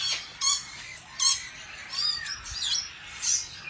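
Parrots in an aviary with lories, macaws and cockatoos, several sharp shrill squawks and chirps spaced a second or so apart, moderately close with quieter calls between.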